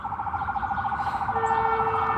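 An ambulance siren horn sounds with a rapid warbling electronic wail, loud and steady, passing nearby outdoors with a faint background hum.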